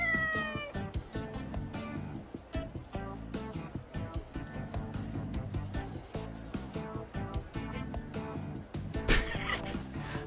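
A lucky cat in Like a Dragon Ishin meows repeatedly, with drawn-out, wavering calls that stand out over busy game music and effects, fairly close and loud throughout.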